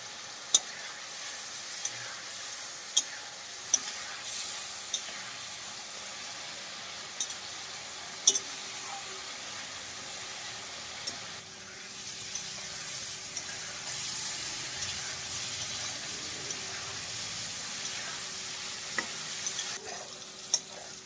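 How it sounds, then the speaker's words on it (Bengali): Tomato, onion and slit green chilli masala sautéing in a pan for a pabda fish curry, a steady soft sizzle broken by sharp, sparse scraping taps of stirring, with no voices. "কয়েকটা চেরা কাঁচা লঙ্কা দিয়ে মশলাটা খুব ভালো করে কষাতে হবে।"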